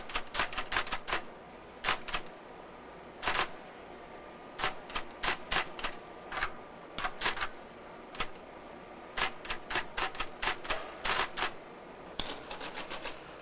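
Typing on a 1967 computer terminal keyboard: quick bursts of sharp key clicks in irregular clusters, close and fairly loud over a low room hum, with short pauses between runs.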